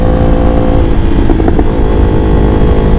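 A 2016 Kawasaki Ninja H2 supercharged motorcycle with aftermarket modifications on the road, its engine a loud, steady close drone with a brief throttle blip midway, no talking.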